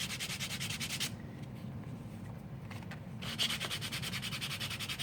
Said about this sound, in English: the first thing I'm going to do is just sand the leather down a little bit